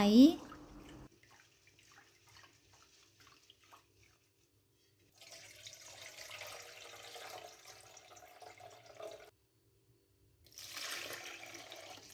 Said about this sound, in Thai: ครัวทิพย์ใช้ถั่วเขียวเลาะซีก 200 กรัม ล้างให้สะอาด ล้างหลายๆน้ำเลยนะคะ